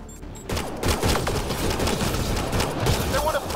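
Rapid gunfire bursts from the Mass Effect Andromeda video game, a dense, continuous fusillade of shots close up, with battle noise throughout.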